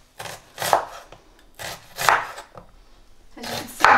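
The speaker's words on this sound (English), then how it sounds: "I'm just finely chopping the onion into sort of half circles." A knife finely chops an onion into half circles on a board for pakoras, in three bursts of quick, crisp cuts separated by short pauses, close and fairly loud, with no talking.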